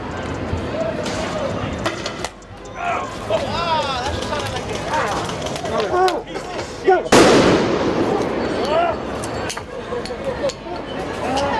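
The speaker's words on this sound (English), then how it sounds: "the fireworks being shot in their direction" Fireworks shot during a street riot, sharp bangs and crackling bursts popping amid a noisy crowd of shouting voices, with one loud blast standing out midway.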